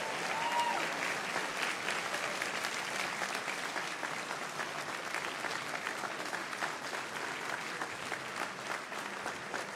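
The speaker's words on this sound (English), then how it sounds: "A round of applause for all our contestants, please." A large audience at a live political party leadership debate in an expo centre applauds the contestants, producing steady, dense clapping that holds at an even level from start to finish.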